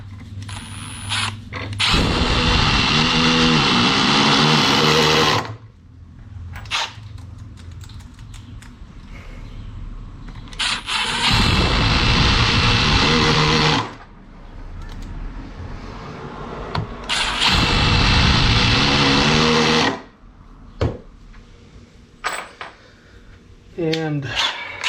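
A Milwaukee M12 Surge 2760 impact driver runs at speed 3 in loud sustained bursts of rapid hammering whir, three long runs separated by short pauses with brief talk in between.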